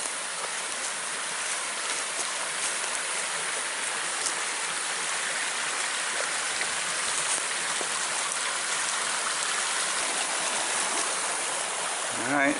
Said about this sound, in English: You can hear the creek over here.